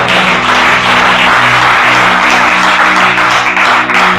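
A church congregation breaks into loud, sustained applause for the Lord, dense clapping filling the room steadily from start to finish.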